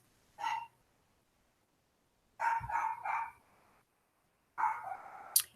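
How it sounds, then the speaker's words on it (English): A dog barks in three separate bursts, the first short and the later two longer runs of repeated barks, heard indoors at moderate distance with quiet gaps between them. "I hear the dog barking"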